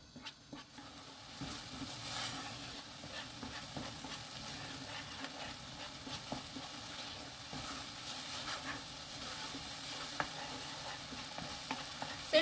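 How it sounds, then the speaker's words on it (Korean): Seasoning sauce is stir-fried in a pan over a lit burner, giving a steady soft sizzle and hiss with scraping stirring noises throughout, close and fairly quiet, with nobody talking. "불을 켜고 양념을 볶아줄게요."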